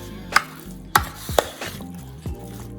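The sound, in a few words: stirring spice mix into chicken wings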